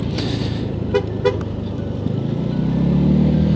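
An AJS Modena 125cc motorbike horn gives two short, bright toots about a third of a second apart, close by, over a steady low engine idle that swells slightly toward the end.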